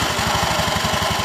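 A scooter engine runs close and loud during a clutch test, with a steady rhythmic putter at idle. The scooter has a knocking, rattling clutch fault that shows when pulling away.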